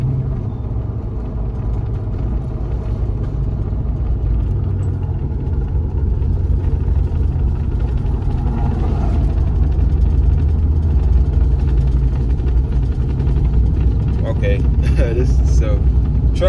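A dusty turbocharged Chevrolet Tahoe engine drones steadily during a risky test drive, a loud continuous low rumble with road noise throughout and faint voices near the end.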